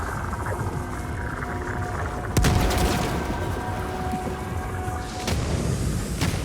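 Grenade blast in a French-language sci-fi co-op shooter mission, a loud broadband boom near the middle followed by a second burst, over constant battle noise with scattered gunfire and mechanical drones.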